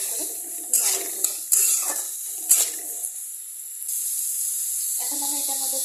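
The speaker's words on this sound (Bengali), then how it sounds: "আদা বাটাটা দিয়ে আমি এটাকে ভালো করে নাড়িয়ে দেবো।" Ginger paste in a hot pan gives a steady close sizzle and hiss, broken early by a few scraping stirs of a spoon against the pan.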